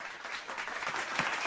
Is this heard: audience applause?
yes